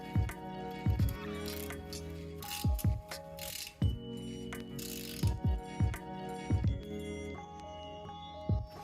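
A ratchet snugs up a 17 mm front engine mount bolt on a VW Corrado G60, with repeated bursts of close, clattering clicks separated by brief pauses, loud and near with no talking.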